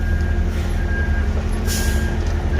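A concrete truck drives away from a drilled-shaft job site with a heavy, steady diesel rumble. A brief hiss of air brakes sounds over the engine.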